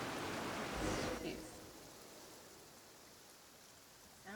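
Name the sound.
rain falling, from the video game Genshin Impact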